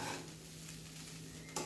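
Poha stirred in a pan, a short burst of soft scraping and light sizzle at low volume, with a sharper knock of the utensil at the very end.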